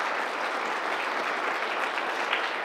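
A church congregation at a Sunday worship service claps for the choir leaders: a full, steady burst of many hands clapping at a constant loudness, with no talking.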